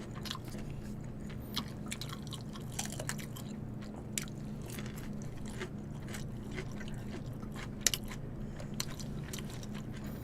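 Close, steady chewing and crunching of a pork neck lettuce wrap with chili pepper, moist bites and soft smacking repeating continuously against a low restaurant hum, no talking.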